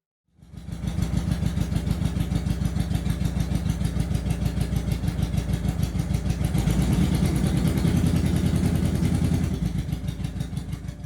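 A Suzuki GS850 motorcycle engine, not running in tune, starts up and runs steadily with a loud, rapid, uneven pulsing idle and a slight swell in revs midway, close and alone.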